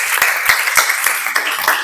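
Brief scattered clapping from a classroom of students, a few uneven bursts of hand claps close by, short and light rather than a full ovation.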